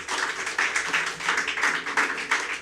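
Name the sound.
congregation clapping for the Lord in church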